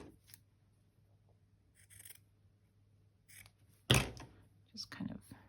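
Scissors cutting material for a lavender-themed interactive journal page, a few soft snips and one sharp close crunch near the middle, with quiet talking around the cuts.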